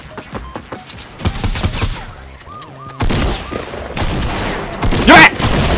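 Double-barrel shotgun blasts in the video game Fortnite, heavy booming shots amid game effects and a clattering reload, loud and close, with people talking over the action.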